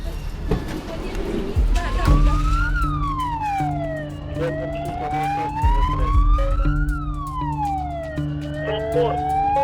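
An ambulance siren wails, sweeping slowly up and down in pitch over steady traffic noise, loud and close, with faint voices in the background.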